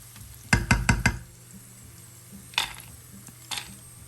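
Cashew nuts roast in a pan for chicken pulao: a quick run of four loud scraping clatters from a spoon against the pan, then quieter background sizzle broken by two more stirring scrapes.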